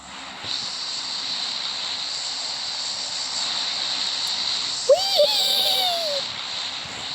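An airplane engine in a video game drones as a steady, loud hum with a constant hiss, joined near the end by a brief rising whine.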